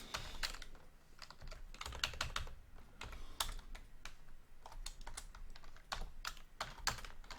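Rapid, irregular keystrokes on a computer keyboard as JavaScript code with an if statement is typed, close and steady throughout with no talking.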